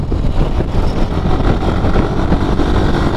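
A KTM RC 390 motorcycle engine drones steadily while riding, with a continuous, fairly loud rumble and wind noise and no breaks or talk.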